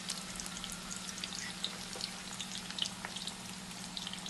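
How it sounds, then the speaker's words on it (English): Cauliflower pieces, stems included, fry in hot oil with a steady, even sizzle and crackle, with small pops rising above a continuous hiss and no voices. "So I'm just gonna put it to be fried with the other pieces."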